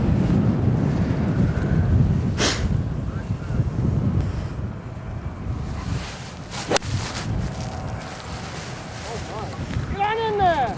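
Wind buffets the microphone on a golf course, a loud, steady rumbling roar throughout, with a few sharp brief knocks and a voice partly masked by the gusts.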